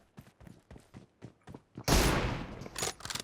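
Gunfire in the mobile battle-royale game PUBG Mobile: a string of short, sharp shots early on, then a loud, dense burst of rapid fire and a few more closely spaced cracks at the end, with no voices over it.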